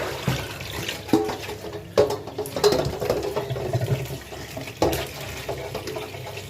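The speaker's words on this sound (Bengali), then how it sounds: "তো কল চারে দিয়েছি, পানি পড়তেছে, মাছ ভালো করে ধুয়ে নিচ্ছি" Tap water runs steadily over whole fish being washed by hand, with irregular splashes and clatters from handling in a sink, moderately close.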